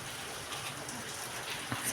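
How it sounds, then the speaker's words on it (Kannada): Heavy rain falling outside makes a faint, steady hiss heard from indoors, with a few soft knocks and a voice talking over it. "ಹೊರಗಡೆ ಮಳೆ ನೋಡ್ರಿ ಎಷ್ಟು ಜೋರು ಬರಾಗತೈತಿ ನೋಡ್ರಿ"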